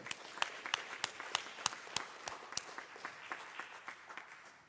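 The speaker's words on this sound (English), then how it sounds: "a round of applause for Bob Jordan" Applause from a congregation for Bob Jordan at a religious gathering: a fairly small, distant group clapping with distinct individual claps, fading gradually over a few seconds.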